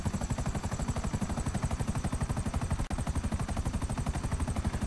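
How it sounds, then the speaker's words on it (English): Rapid, unbroken automatic gunfire in GTA 5 Online, a dense even rattle of shots repeating many times per second at a steady loud level, with one brief dropout midway. "They're shooting each other."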